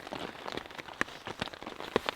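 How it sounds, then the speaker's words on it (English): Heavy rain pelts a tarp shelter at a campsite during a storm, a steady dense patter with louder individual drops striking close by. "It's still raining"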